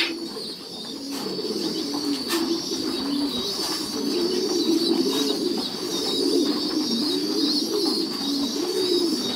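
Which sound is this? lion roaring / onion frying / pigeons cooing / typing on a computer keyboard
pigeons cooing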